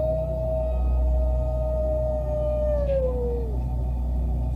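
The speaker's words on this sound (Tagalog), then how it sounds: "marinig ang nakakakilabot na alulong na yon ng aso" A long eerie dog howl rises and holds steady, then slides downward and fades, sounding alone over a low rumbling background with no voices.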